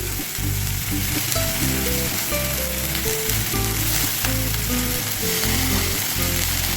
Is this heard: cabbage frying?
yes